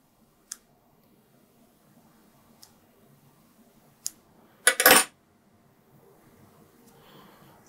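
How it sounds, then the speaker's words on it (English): Thread ends are trimmed while tying a Half Man Intruder fly, giving a few faint clicks and then one sharp, close snip in a quiet room. "hold that pretty tight, and you're going to cut these ends off"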